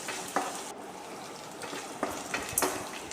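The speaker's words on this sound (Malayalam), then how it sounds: "ഇനി ഇത് നല്ല ബ്രൗൺ കളർ ആകുമ്പോൾ നമുക്ക് ഇതിനൊന്ന് വഴറ്റിയെടുക്കാം" Ingredients sautéing in a pan for Kerala-style tomato rice, a soft continuous sizzle with a few quick scraping clinks of a stirring utensil, fairly quiet and without voices.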